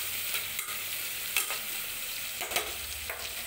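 Onions and green chillies frying in a pan, a steady sizzle with occasional stirring scrapes, close and continuous.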